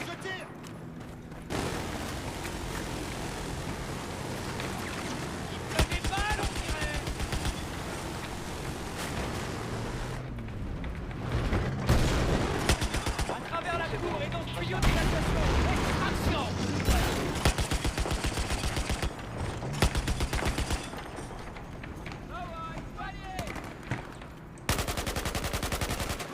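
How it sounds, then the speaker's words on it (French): Gunfire in the video game Battlefield 4, set in Baku: loud bursts of machine-gun fire and heavy shots come in repeated volleys amid explosions and mechanical noise, with a few short pauses between them. "Affirmatif, je tire."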